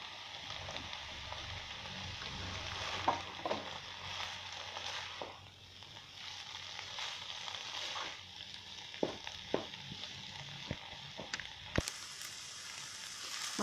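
Fish roe is stirred into potato, spinach and eggplant frying in a pan: a steady, soft sizzle broken by scattered scraping clicks of the stirring utensil, with no talking.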